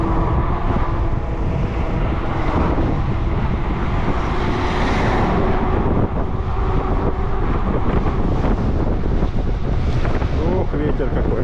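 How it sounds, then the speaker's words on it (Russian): Strong seaside wind buffets the microphone during an electric bike ride along the coast near Yalta in February, a loud, continuous roaring rush with faint voices underneath. "Ох, ветер какой."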